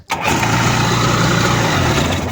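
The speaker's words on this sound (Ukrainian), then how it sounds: "До того як він запустився, то я пересвідчився, що це двохтактний двигун" A two-stroke jet ski engine catches after a brief start attempt and settles into a loud, steady, buzzing run, recorded close with no talking.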